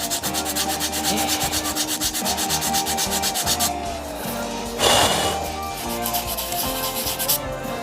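Sanding a woodturned hybrid wood-and-resin casting at the first grit, a steady loud abrasive rubbing hiss that holds nearly constant throughout, with a brief louder surge partway through.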